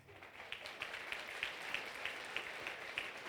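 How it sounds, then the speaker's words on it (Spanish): Church congregation applauding to welcome new members at a Quechua-language service in Huanta, Ayacucho: quiet, distant massed clapping with a steady rhythmic pulse of accented beats, as if clapping in time. "Reciban con fuertes palmas."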